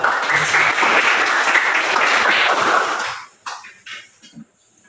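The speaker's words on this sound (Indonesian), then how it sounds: "Tepuk tangan untuk ayat kedua." A classroom group applauds, a dense burst of many hands clapping that runs strongly for about three seconds, then fades into a few scattered claps and quiet.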